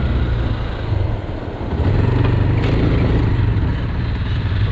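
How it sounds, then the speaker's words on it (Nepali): Motorcycle being ridden on a long road trip, its engine droning loud and close with a rough rattling note, briefly dipping before returning to a steady roar. "बाइकबाट आवाज आउनु थालिसकेको छ।"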